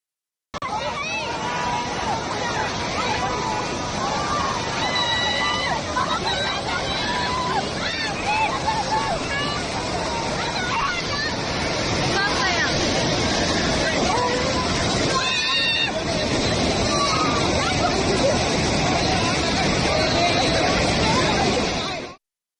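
A monsoon flash flood roars over a waterfall in a continuous, loud broadband rush of churning water, with a crowd of bathers' voices mixed faintly into the torrent throughout.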